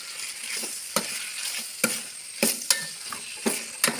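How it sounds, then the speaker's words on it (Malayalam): Beef frying in a pan with curry leaves, shallots, ginger and crushed garlic, a steady sizzle broken by repeated sharp scrapes and clinks as it is stirred. "ഇതിലേക്ക് ബീഫ് ഇടുക."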